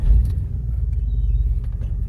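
The engine of a 1971 GMC dump truck, freshly fitted with a new distributor, cap, rotor, points, spark plugs and fuel filter, idles close by with a steady, loud low rumble throughout.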